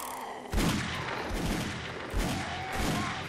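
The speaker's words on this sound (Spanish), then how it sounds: "tres disparos he fallado ahí" Magnum revolver shots in the zombie survival game 7 Days to Die, three sharp reports spaced about a second apart over a busy game backdrop, fairly loud and close.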